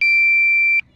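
A DJI Mavic Air drone controller sounds its low-battery warning: a loud, steady high-pitched electronic beep holding for most of a second before stopping, with a brief second chirp at the end.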